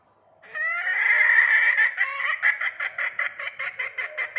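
A recorded red junglefowl call played through a speaker: a loud, harsh crow, followed by a rapid run of repeated clucking notes, close and clear, with no voices.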